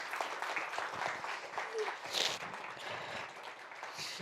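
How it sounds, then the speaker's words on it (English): An audience at a featured talk applauds a speaker, a sustained wash of many hands clapping at moderate distance for several seconds, fairly soft overall. "A big round of applause for Ishani."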